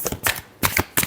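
Tarot cards shuffled in a brief final pass, three quick, close riffling bursts with short gaps between them.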